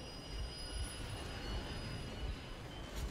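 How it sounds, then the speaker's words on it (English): A train slows down in the post-apocalyptic video game Metro Exodus, a continuous loud rumble of rolling wheels with periodic low thumps and a faint squeal rising near the end, with no voices. "Let's stop the train right there."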